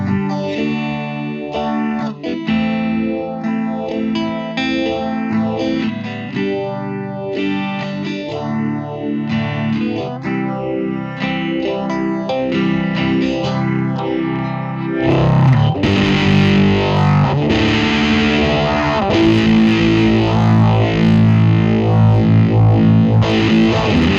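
Electric guitar through a DIY-kit phaser pedal in script mode, with a sweeping, swirling effect, plays a riff, then shifts to a louder, denser distorted passage; continuous and close, no talking.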